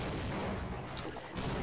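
Grenade explosion in the Half-Life video game: a loud, dense blast of booming, crackling noise fills the whole short moment without letup.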